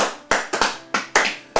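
Church congregation clapping to acclaim the Lord, six sharp hand claps in an uneven rhythm, close and loud with no talk.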